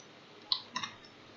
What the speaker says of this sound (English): Why am I typing this all in wrong?